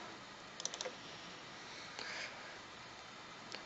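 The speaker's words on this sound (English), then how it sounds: "So we're double clicking on our package." A computer mouse gives a quick burst of several sharp clicks, followed by a couple of softer isolated clicks, close and faint against a quiet room hiss.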